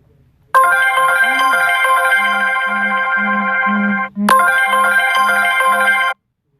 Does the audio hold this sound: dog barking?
no